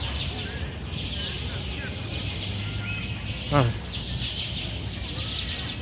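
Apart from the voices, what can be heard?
birds singing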